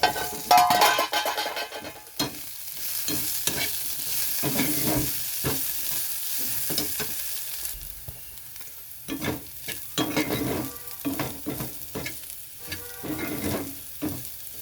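Potatoes with bimli greens sizzle in a pan as a spatula stirs and scrapes, giving frequent clatters and scuffs over a soft frying hiss at close range.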